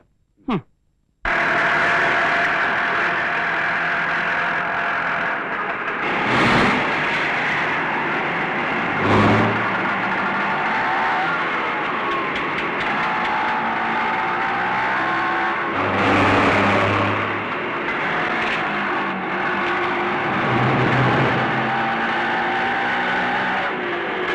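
A car engine revs and drives steadily close by, with a loud continuous motor drone broken by a few sharper surges of acceleration, starting abruptly after a brief click.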